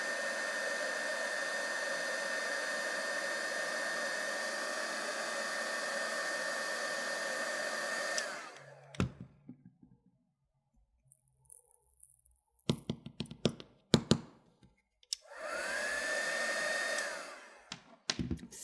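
Heat gun blowing on embossing powder for faux enamel, a steady loud whooshing hum for about eight seconds that then cuts off, followed by scattered small taps and a second brief blast.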